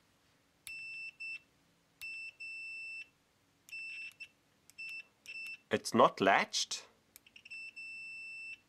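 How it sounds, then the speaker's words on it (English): Fluke 17B multimeter continuity buzzer sounding in several short high-pitched beeps, some brief and some lasting about a second, with someone talking in between. "It is a clear buzzer."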